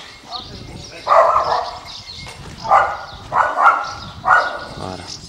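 Several sharp dog barks in short bursts, moderately close, with background noise and faint voices around them.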